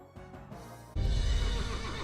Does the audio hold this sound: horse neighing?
yes